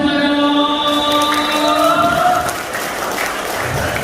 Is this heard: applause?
yes